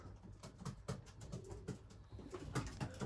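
Racing pigeon arriving at its loft after a 100 km race, with soft cooing and wing flutters close by amid outdoor background noise.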